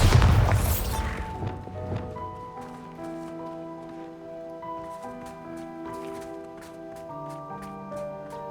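Bombarda blasting spell explodes in Hogwarts Legacy, a loud booming crash at the start that fades into a sustained musical tone with soft tinkling notes.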